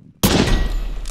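A sniper headshot in the online shooter Poxel.io cracks out as one loud, sudden blast, then carries on as a dense, noisy tail of gunfire and echo to the end, with no talking.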